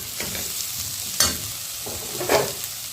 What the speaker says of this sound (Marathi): मस्त टोमॅटो छान भाजले हे टोमॅटो छान भाजले